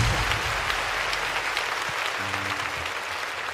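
A live concert audience at a band's show applauds the support staff, a steady, dense wash of clapping that fills the space, with a brief voice and a low tone near the end.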